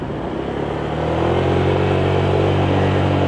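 A Honda Vario 125cc scooter accelerates from low speed, its engine note rising and growing louder over a few seconds as it pulls away, steady and close with no talk.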